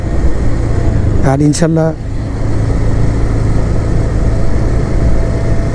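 A motorcycle engine drones steadily while riding, with loud, close wind rush throughout, as someone speaks briefly over it.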